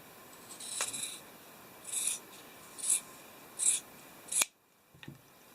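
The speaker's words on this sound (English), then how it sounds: "we're going to cut off half of a sock" Scissors snip through a fuzzy sock at the heel, five crisp separate cuts spaced about a second apart, close and fairly quiet, followed by a faint handling rustle.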